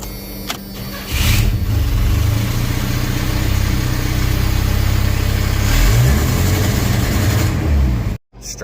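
Engine of a 1990 Chevy S10 truck cranking and catching in a garage with a big fan running, a loud steady running drone that cuts out abruptly near the end.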